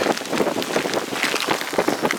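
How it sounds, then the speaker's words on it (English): Hail pours down steadily in a hailstorm, a dense, continuous patter of small impacts with gusty wind noise and no pause across the whole stretch. "it's pouring it down with fluid hail"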